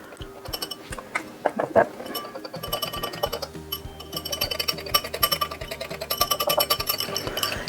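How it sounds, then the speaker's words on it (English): A whisk clinks rapidly against a bowl while Dijon mustard salad dressing is mixed, giving a close, busy metallic rattle that speeds up and grows denser toward the end, with some speech early on. "And let's whisk that all up together here."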